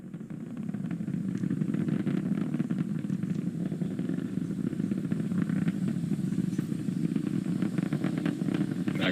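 Falcon 9 rocket engines during ascent on the Inspiration4 launch, a steady, continuous low roar and rumble that holds at an even level throughout, heard at a distance with no talk.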